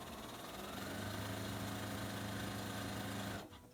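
Sewing machine running a straight line of stitching along fabric for a pillow cover, a continuous close mechanical whir with steady motor hum that cuts off abruptly near the end.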